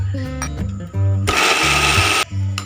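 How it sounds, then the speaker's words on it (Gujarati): A kitchen mixer grinder whirs in short bursts and then one longer run as it grinds raw mango pieces without water, loud and close, with motor pitch dropping between pulses. "થોડુંક જાડું રહી જાય તો આપણે ફરીવાર મિક્સર પીડવી દેવું"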